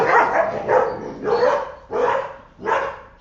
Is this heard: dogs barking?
yes